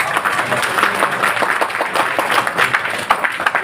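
Audience applause at a seminar marking Ambedkar Jayanti, a steady room-filling patter of many hands clapping at close range with no voices over it.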